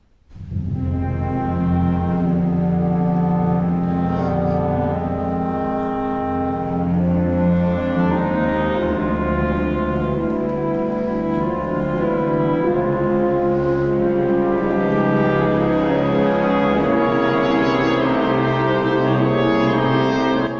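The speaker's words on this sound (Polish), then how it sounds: "Posłuchajmy teraz przez chwilę e, odwiecznych pieśni." An orchestra plays Karłowicz's symphonic poem Eternal Songs, a dark, dense and concentrated opening of sustained low strings and brass that holds steady and full throughout with no talk.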